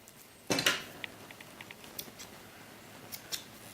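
Scissors snipping sheepskin for a doll vest, one firm cut followed by several faint small snips, close and quiet in a still room.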